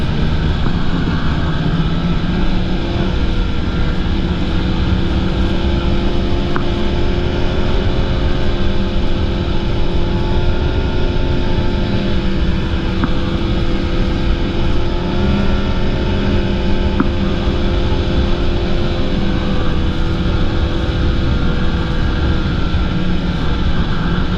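A snowmobile runs along a groomed winter trail near Old Forge, heading toward Stillwater, with a loud, steady engine drone that holds unbroken throughout.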